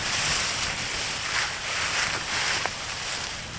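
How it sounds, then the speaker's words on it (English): Strong wind buffeting and roaring across the microphone, continuous and loud, with gusts rising and falling. "It's so windy, I'm going to have to stake this out."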